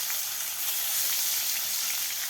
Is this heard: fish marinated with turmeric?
yes